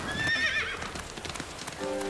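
A horse whinnies loudly, followed by quick clip-clopping hooves close by, in an animated children's adventure set in the wild; no speech.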